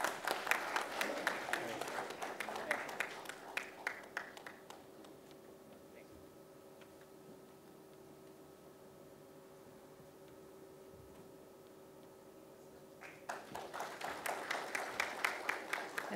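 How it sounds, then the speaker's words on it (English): Audience applause for panelists at an expert panel event, sparse individual claps that fade into a quiet hum for several seconds, then pick up again toward the end, moderately distant. "Give them a round of applause, everyone."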